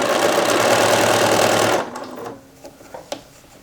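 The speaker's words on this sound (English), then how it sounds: "I'm just going to sew past that folded over spot." A sewing machine stitches bias-cut dress fabric in a steady, loud, close whirring run for almost two seconds, then stops, leaving light handling clicks and rustles, and no talking.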